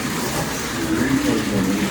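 An AFX Mega G+ slot car fitted with a Viper Bandit Outlaw motor runs with a buzzing electric whine and a faint rising pitch, continuous and close, with no voices.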